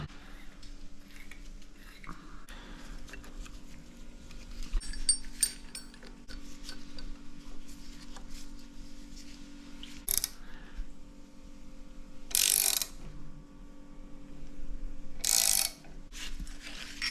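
A ratchet works on the rocker cover bolts of an RB30DET engine during a rebuild, quiet clicking turns with a few brief louder metallic rasps scattered across the clip.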